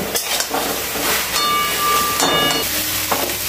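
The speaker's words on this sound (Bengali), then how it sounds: "একটু এবার ভালোভাবে টানিয়ে নিতে হবে জলটাকে, মানে শুকনো শুকনো করে নেব" Kochur loti simmers in a pan as the water boils off, making a steady hissing, steamy sizzle with occasional bubbling pops and a few faint thin tones, close and moderately loud.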